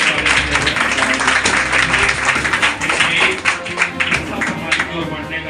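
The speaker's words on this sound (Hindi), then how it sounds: "दीपक सर के नेतृत्व में उद्घाटन किया जा रहा है जोरदार तालियों से" A crowd claps heartily at a school inauguration ceremony for students in Rafiganj. The applause is a dense, continuous patter of hand claps that holds steady for several seconds and may sit under some voices.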